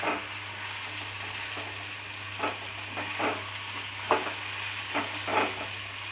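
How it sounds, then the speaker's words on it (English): Masala squash sabzi frying and sizzling in a pan, a steady hiss broken by several soft stirring scrapes, with a low constant hum beneath and no talking. "I am frying this for 3 minutes, like 2 to 3 minutes."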